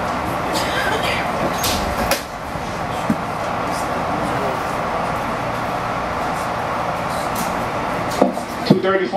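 Interior of a Metro-North train on the Hudson Line southbound to Grand Central Terminal, with a steady rolling rumble and hum, occasional clicks and knocks, and a voice speaking near the end.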